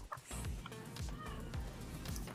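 A young girl imitates a cat's meow. The voiced mewing is brief and sits over a steady background of low noise.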